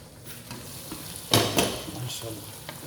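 Onions sizzle in a pan for Hyderabadi biryani, a faint, brief frying hiss with a short burst of stirring scrapes in the middle.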